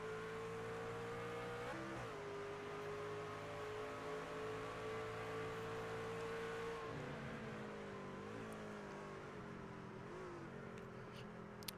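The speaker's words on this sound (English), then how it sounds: "you also hear they have a lot of shifting that they have to do here tonight as well" Race truck engines in an iRacing NASCAR truck-series event at Charlotte drone loudly and steadily, revving continuously with several audible gear shifts that briefly drop and re-climb the pitch.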